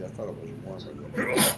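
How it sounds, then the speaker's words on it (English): A single sharp sneeze from a person indoors, bursting out loud and close right after a stretch of conversational speech. "Who sneezed?"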